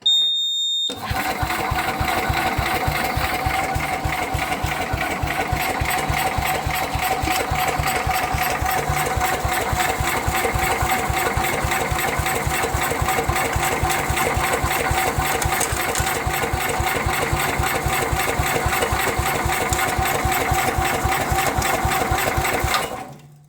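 A vintage Sears Suburban 12 lawn tractor from a barn find, its engine turning over with a fast, even, mechanical chugging that stays loud and close for over twenty seconds before cutting off.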